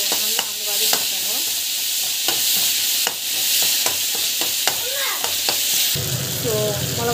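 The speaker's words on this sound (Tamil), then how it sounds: "டமாட்டோ ஆட் பண்ணிவிட்டு நல்லா வந்து வதங்கணும்" Tomatoes sautéing with spices in a pan, with a loud, continuous close sizzle and frequent rhythmic scraping clicks of a spoon stirring, while a brief voice murmurs near the end.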